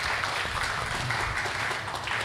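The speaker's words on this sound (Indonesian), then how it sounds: "Tepuk tangan dulu." Applause from the audience at a provincial pickleball federation gathering in Palembang, South Sumatra: steady, dense clapping at moderate level, continuous throughout without pauses.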